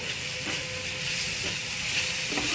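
Masala frying in a pan while being stirred, a steady loud sizzle with scraping stir strokes, heard up close and without any voices.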